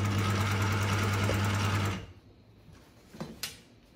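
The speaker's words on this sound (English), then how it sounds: "I'll go straight to the sewing machine." An industrial sewing machine stitches the pocket of a pair of work shorts in a fast, steady buzzing run for about two seconds, then stops, leaving quiet handling clicks and rustles.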